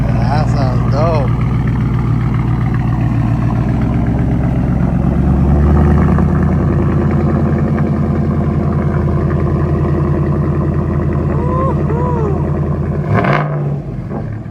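A Ford Coyote 5.0 V8 on a truck with freshly fitted exhaust work rumbles at a loud, steady idle with a throaty low drone, swelling briefly mid-clip. A few voice-like chirps sit faintly over it, and a short burst comes near the end.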